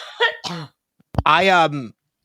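Two short vocal bursts, then a sharp explosive cough followed by a drawn-out, voiced throaty sound, close to the microphone.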